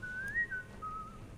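Whistling in the video game Shadows Over Loathing: a single thin rising-then-falling whistled tone, a short pause, then a second steadier note, heard alone over a faint low background.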